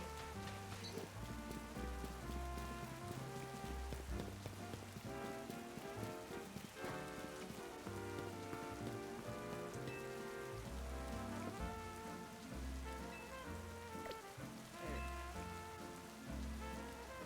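Steady rain patters continuously alongside looping background music in a Pokémon video game, with no voices.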